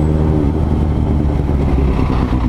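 A Suzuki GSX-S750 motorcycle being broken in, its engine running steadily and loud close by, a continuous low rumble with clattery mechanical texture throughout.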